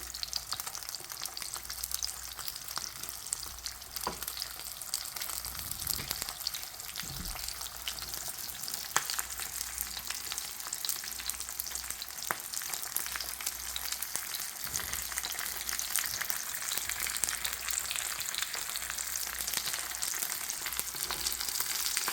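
Semi-dried flounder fries in a pan, giving a continuous crackling sizzle at close range that holds steady throughout, with occasional light pops and faint clinks and no talking.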